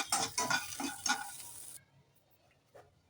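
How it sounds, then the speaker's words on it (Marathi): Cashews and almonds roasting in a little ghee in a pan, with close, brisk stirring and light scraping for under two seconds. Faint kitchen sounds follow. "मी थोडंसं तूप घातलंय, त्याच्यावरती काजू आणि बदाम असे थोडेसे शिकवून घेणार आहे"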